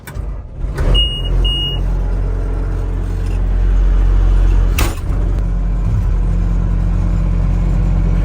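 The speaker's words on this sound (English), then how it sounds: "Climb up in this sweat box here, fire it up, get it off the trailer." Forestry machine engine fired up for unloading off a trailer, a mechanical clatter and start followed by a loud, steady low-pitched engine rumble close by, with a brief high beep and a knock partway through.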